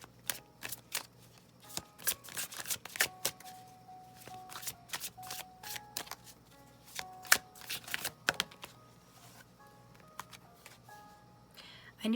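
Tarot message cards being shuffled in a close run of crisp flicks and riffles, with a person talking through much of it.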